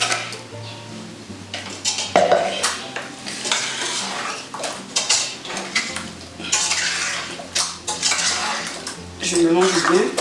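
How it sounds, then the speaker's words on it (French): Metal spoon scraping and clattering in a pot as seasoning is stirred into catfish pieces, irregular knocks and scrapes with a faint sizzle beneath, close and fairly loud. "Je mélange bien pour faire pénétrer tous les assaisonnements dans le poisson"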